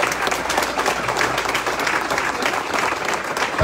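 A church congregation applauds steadily and loudly at a chaplain graduation ceremony in Reno, Nevada, a dense, even wash of clapping that holds throughout.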